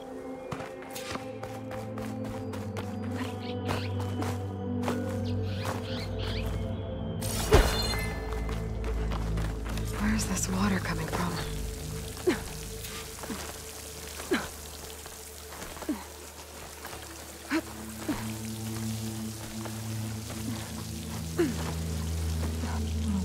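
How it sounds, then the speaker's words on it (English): A waterfall in the video game Horizon Forbidden West, a continuous rushing, pouring roar of falling water with splashy rain-like texture, steady throughout and punctuated by occasional sharp impacts. "Near that waterfall."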